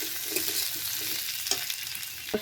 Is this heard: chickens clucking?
no